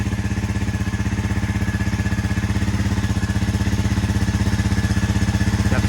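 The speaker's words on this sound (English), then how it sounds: "So the engine is completely cold, right? It's completely cold." Honda CB300R motorcycle with an Akrapovic exhaust idling from a cold start, a close, loud, steady low thrum with fast, even pulsing, unchanging throughout with no talk.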